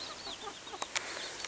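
Hens cluck and chatter softly in a small group, with a few sharp clucks standing out against a busy background.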